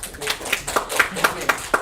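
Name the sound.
round of applause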